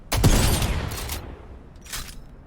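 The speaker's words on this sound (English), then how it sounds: "That's the sound of the reload." A loud metallic blast followed by clanking mechanical clicks of a shotgun being reloaded in Fortnite, with another sharp click near the end.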